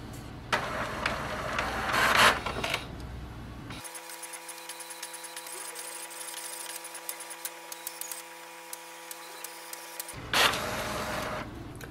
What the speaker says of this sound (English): Once your printer prints the alignment page, we have to scan it.